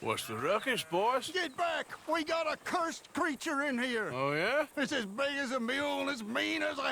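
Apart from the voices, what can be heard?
No everyday noise stands out behind the speech.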